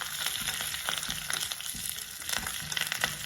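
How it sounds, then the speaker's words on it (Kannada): Cumin, mustard seeds and curry leaves crackle and sizzle in hot oil for a buttermilk tempering, a steady close frying hiss with scattered sharp pops, no voices. "ಎಣ್ಣೆ ಕಾದ್ಮೇಲೆ ಸ್ವಲ್ಪ ಜೀರಿಗೆ ಸಾಸಿವೆ ಹಾಕ್ತೀನಿ. ಈಗ ಇದು ಕರಿಬೇವು ಹಾಕ್ತೀನಿ. ಸ್ವಲ್ಪ ಚಟಪಟ ಅನ್ಕೂಲೆ"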